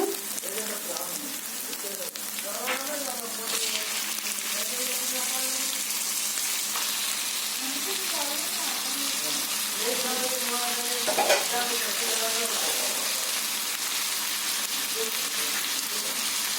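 Raw prawns frying and being stirred into a curry in a pan, a steady close sizzle running throughout with faint stirring scrapes, no talk.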